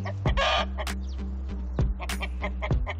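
Two roosters cluck and call in short, close bursts with brief pauses, fowl sounds standing alone in a quiet setting.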